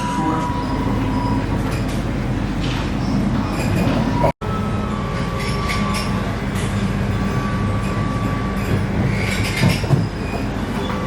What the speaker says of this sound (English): Alright, so we're on the tram.